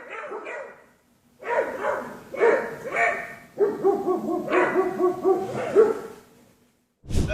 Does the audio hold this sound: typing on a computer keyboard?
no